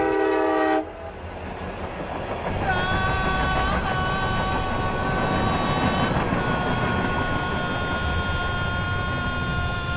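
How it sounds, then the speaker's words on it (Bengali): A train horn blasts briefly, then a loud train rumbles in close with a rising roar and rattling wheels that continue steadily to the end. "ট্রেন আসছে।"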